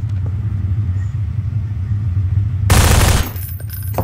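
Gunfire in a Counter-Strike prop hunt match: a single loud, dense burst of shots lasting about half a second breaks in near the end over a steady low rumble, then the hum continues.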